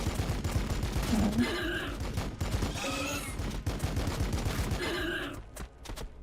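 Rapid bursts of gunfire from a Land Speeder in Warhammer 40,000: Battlesector, crackling volleys repeating across the battlefield over a steady rumbling game background, with brief pauses between the loud salvos.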